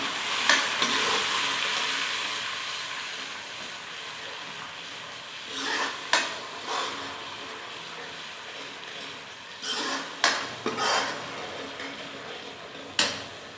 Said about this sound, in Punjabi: ਹੁਣ ਆਪਾਂ ਪਾ ਦਾਂਗੇ ਟਮਾਟਰ ਲਸਣ ਦੀ ਪੇਸਟ